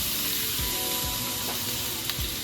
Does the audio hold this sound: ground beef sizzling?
yes